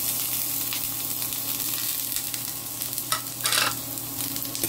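Garlic, onion and a little ginger sizzle in a hot frying pan, a steady loud hiss with stirring scrapes and brief crackling flare-ups, and no one talking.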